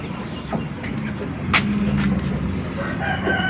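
A rooster crows once in a chicken coop amid a cluttered farmyard background, with faint clucks and a low rumble around it.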